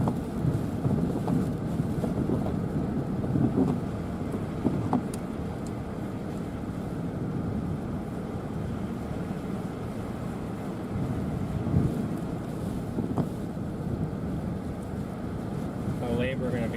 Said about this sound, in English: We are in some serious wind,